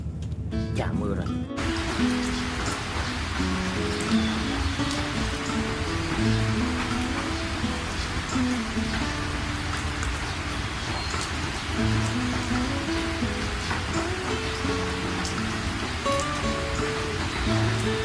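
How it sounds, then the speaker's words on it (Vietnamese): Rain falls steadily during a fishing outing, a dense continuous hiss over water heard throughout, with people talking over it and a sharp knock near the start. "Chà mưa rồi."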